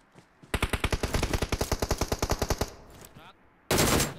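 Rapid automatic gunfire in the mobile battle royale game BGMI, a loud burst of about twenty evenly spaced shots, then a short pause and a sharp final blast, with no talk over it.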